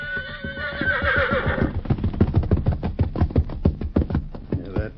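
In a 1944 Lone Ranger radio drama, a horse gives a loud, shrill whinny, followed by a steady run of clip-clopping hoofbeats that stay close and clear with no talking over them.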